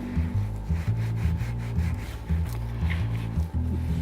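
Steady rubbing and scrubbing on baked-on grime inside an old oven during green cleaning, a close, continuous abrasive scouring with rhythmic strokes and a low hum underneath.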